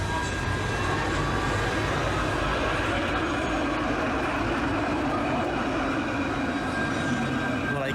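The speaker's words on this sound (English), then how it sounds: "see, there's a tram, very nice looking tram" A tram rumbles past on a city street in Dijon, France, a steady low mechanical roar with faint squeals, close and continuous throughout.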